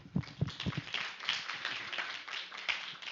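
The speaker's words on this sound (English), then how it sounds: "Applause." Scattered audience clapping at an opening ceremony of a Brazil-Japan international event, a cluster of sharp claps up front thinning into a softer, steady patter for about three seconds, with no talk.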